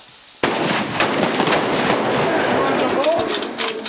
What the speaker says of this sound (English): So when you fire that shot